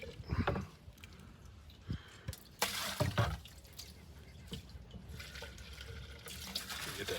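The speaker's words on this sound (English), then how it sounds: "Pour my gas in." Gasoline pours into a bucket for coyote trap dip, a soft liquid splash and trickle with scattered drips and knocks, close and fairly quiet.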